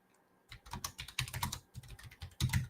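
Fast, uneven keystrokes on a computer keyboard tap close to the mic in a dense run, with short pauses between bursts and a loud cluster near the end.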